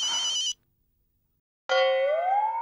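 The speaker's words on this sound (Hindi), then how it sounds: "जेठालाल का फोन होगा। स्पीकर पे रखो।" A telephone rings in two electronic bursts separated by a short silence, fairly loud and close.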